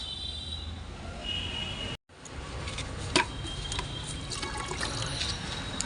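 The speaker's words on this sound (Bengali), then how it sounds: "এবার এটাকে এগুলোতে একটু করে জল দিয়ে দিই" Water trickles steadily onto soil around newly planted dahlias, a continuous soft stream broken by one short pause, with faint outdoor sounds behind it.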